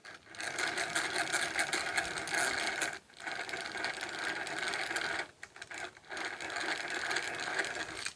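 A Millers Falls No. 5 hand drill fitted with a spoon bit bores into wood, a close rapid whirring rattle of the cranked gears that runs steadily with two short pauses as the crank stops and restarts.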